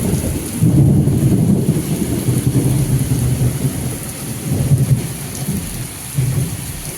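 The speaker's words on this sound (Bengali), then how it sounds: "প্রচণ্ড মেঘ ডাকছে তো বিদ্যুৎও চমকাচ্ছে" Heavy rain pours steadily while deep thunder rumbles in long, rolling waves, close and loud throughout.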